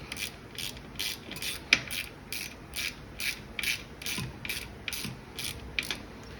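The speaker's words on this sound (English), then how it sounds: "Valve stem, however, we need to ratchet this out so we can air it up" A ratchet clicks in quick regular bursts while unscrewing a valve stem on a dirt bike tire, each short run of sharp metallic ticks repeating about twice a second, close up with faint handling noise between.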